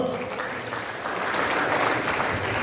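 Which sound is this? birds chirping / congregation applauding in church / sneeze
congregation applauding in church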